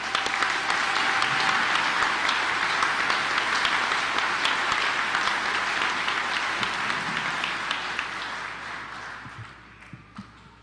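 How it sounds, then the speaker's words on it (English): Sustained applause from a large audience for a senator at an energy workers' event, loud and even before slowly tapering off at the end. "Give the Senator a round of applause"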